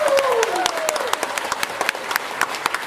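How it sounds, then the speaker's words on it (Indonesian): Applause from the audience at a motivational seminar, many hands clapping in crisp, spiky bursts that fill the room, with a faint tone gliding down at the start and no speech over it. "Tepuk tangan dulu dong yang semangat."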